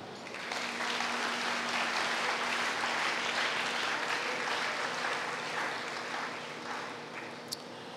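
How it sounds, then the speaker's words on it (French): Church congregation applauding, a dense sustained clapping that fills the room for several seconds at steady volume, tapering slightly near the end. "Nous l'acclamons."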